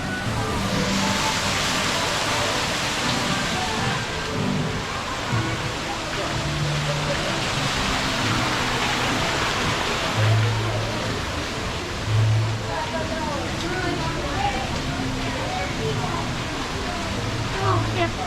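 Rain falls at Magic Kingdom theme park as a continuous broadband hiss, with crowd chatter and people talking throughout and occasional low tones underneath.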